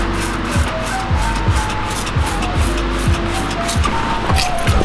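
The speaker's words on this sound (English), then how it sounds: "Just hitting all the real dirty spots with some degreaser." Degreaser sprayed onto a dirty Cummins truck engine, a close steady hiss with repeated short pump-like bursts over a constant background rumble.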